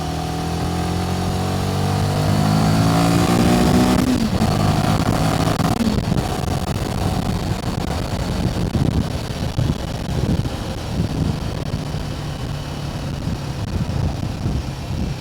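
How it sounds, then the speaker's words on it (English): A Royal Enfield Himalayan 450 motorcycle accelerates hard up a dual carriageway, its engine note climbing steadily, then dropping briefly at a gear change before pulling on with a rougher, throbbing drone under steady wind buffeting. "I'll show you this in this little bit of acceleration we do up this dual carriageway"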